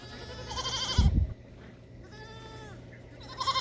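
Farm goats bleat in several wavering cries, close and fairly loud, with a brief low thump among them.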